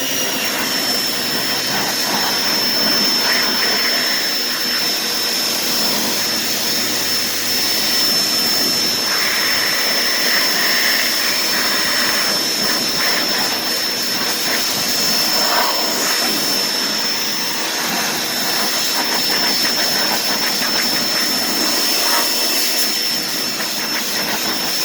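Water spray rinses a freshly cleaned aluminum wheel, a steady, loud hissing rush that stays constant throughout with a faint high whine underneath, close up and free of talk.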